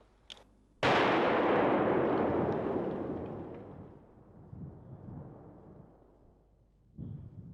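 A single massive blast from a controlled bomb disposal detonation erupts after a brief quiet moment, then rolls out in a long rumbling roar that slowly fades over several seconds.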